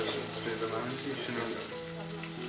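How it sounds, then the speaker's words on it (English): Shallots, fenugreek, curry leaves, red chilies and tomato sauté in hot oil, making a dense, steady sizzle with faint stirring underneath, close and unbroken. "add a few shallots, curry leaves and red chilies. Saute for a few minutes."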